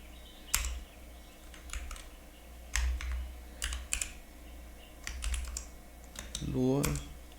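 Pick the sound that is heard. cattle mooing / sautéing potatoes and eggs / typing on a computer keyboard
typing on a computer keyboard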